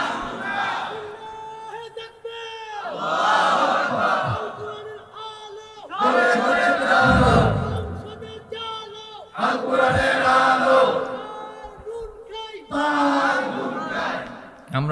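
A large crowd chants a slogan in loud unison, with repeated waves of collective shouting separated by short pauses.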